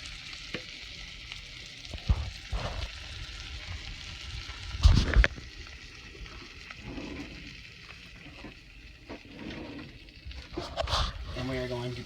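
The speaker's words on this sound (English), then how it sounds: "we are going to constantly stir for 2 to 3 minutes while we wait for the mixture to brown" A butter and flour roux for a croque-monsieur bubbles and sizzles in a pan while a utensil stirs and scrapes it, with occasional knocks against the pan and a voice talking over it.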